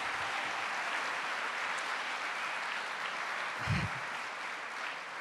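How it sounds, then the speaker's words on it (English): A school concert audience in a middle and high school gives steady applause, fairly quiet and diffuse, with a brief low thump partway through as the clapping carries on evenly. "Give them a round of applause for that."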